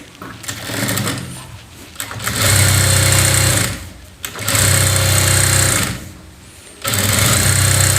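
A sewing machine stitches a saree blouse cup in loud, close motor runs, three sustained bursts of rapid whirring with short quiet pauses between them.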